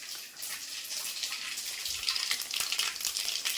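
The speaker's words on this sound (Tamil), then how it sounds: "கடுகு போட்டாச்சு கடுகு வெடிக்குது" Mustard seeds crackle and pop in hot oil while tempering for sambar rice, a steady dense sizzle with scattered sharper pops, close and fairly loud, alone with no voice.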